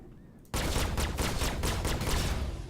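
Guns of an Aegis Sabre fighter in Star Citizen open up after a quiet moment into a loud, sustained rapid-fire stream with a clear pulsing rhythm, close up and without any voices.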